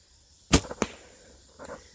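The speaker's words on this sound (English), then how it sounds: "as I'm shooting my bow" Arrow loosed from a Hoyt compound bow while hunting: a sharp snap of release, then a quick thud of impact and a fainter knock a moment later, near and clear with no talk.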